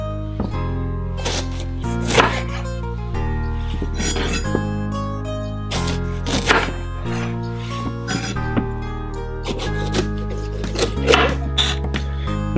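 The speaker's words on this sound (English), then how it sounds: "Cut the tops off." A knife cuts the tops off green, yellow and orange bell peppers on a cutting board in a home kitchen, giving several distinct crisp chops and thuds spaced a couple of seconds apart over a low background hum.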